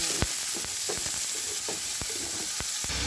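Tomatoes sautéing in a hot pan for Filipino pochero, with a steady sizzle running throughout and sharp stirring scrapes and taps of a utensil against the pan at irregular intervals.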